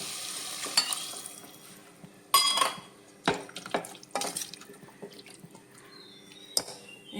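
A cup of water poured into a cooker holding salted onion and potato: a soft hiss and sizzle, then intermittent metallic clanks and scrapes of a utensil against the pot.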